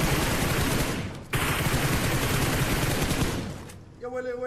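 Rapid bursts of gunfire from a shooting video game, dense and loud nearly throughout, with a brief gap near the start and a tonal sound at the end.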